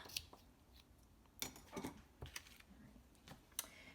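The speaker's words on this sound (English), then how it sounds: "I'm going to take my ribbon scissors, trim off the extra" Faint, quiet snips and clicks of ribbon scissors trimming ribbon, a few separate crisp snaps scattered over a soft background.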